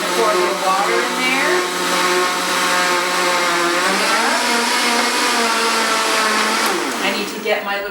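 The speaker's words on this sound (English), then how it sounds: "I'm going to start it on a nice low. Now again, I'm using a Vitamix." A Vitamix blender motor runs steadily at low speed, making cultured vegetables, a loud continuous whir whose pitch shifts slightly as it churns.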